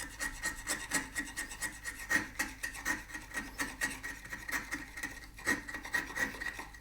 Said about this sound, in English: using the chisel to pare away, bring both sides down towards the line